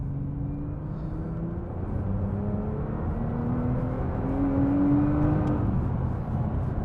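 A Nissan GT-R R35 accelerating hard from inside the cabin, a deep steady engine drone and road rumble with rising harmonic tones building in pitch and loudness as the car gains speed.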